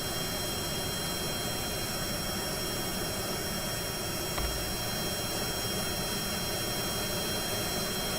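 A jet-powered aircraft in Kerbal Space Program roars steadily through a short takeoff, a loud, constant broadband engine rush with a faint thump partway through.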